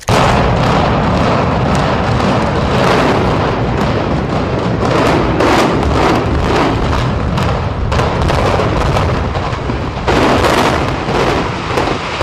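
Controlled demolition of a building, a sustained roaring rumble of explosive charges and collapse filling the whole span, loud and dense with repeated thuds and bursts throughout.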